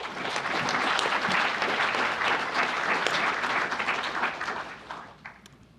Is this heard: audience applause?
yes